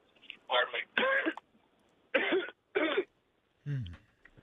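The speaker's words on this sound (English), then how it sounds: "I was clearing my throat." A man on a phone-in radio call clears his throat several times, short rough bursts separated by pauses, thin and band-limited like a telephone line, while he has a cold.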